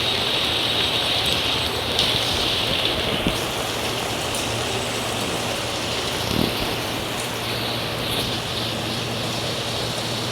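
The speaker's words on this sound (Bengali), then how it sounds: "অঝরে বৃষ্টি শুরু হয়ে গেছে" Heavy rain pours steadily outside, a dense unbroken hiss of downpour with occasional louder drips or splashes standing out, no voices.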